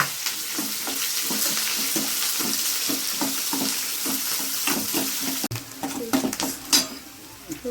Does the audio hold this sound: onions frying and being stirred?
yes